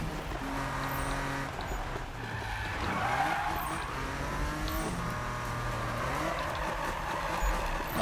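Race cars in the Need for Speed 2015 game roar and rev with shifting engine pitch as tires skid and squeal through a corner, a continuous loud drone lasting the whole stretch.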